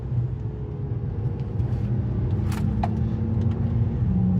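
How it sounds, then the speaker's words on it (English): A 2011 BMW 328i downshifts while driving on an empty road, heard from inside the cabin as a steady low engine and road drone whose pitch shifts as the gear changes, with a couple of faint clicks and no talking. "And then I'll downshift to slow it down."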